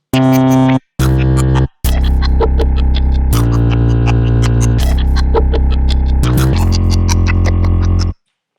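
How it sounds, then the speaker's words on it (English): A loud, gritty synthesized bass tone sounds in chopped bursts, then sustains with shifting pitches and scratchy textures layered on top before cutting off. "a great use of various different samples to create a complex bass tone"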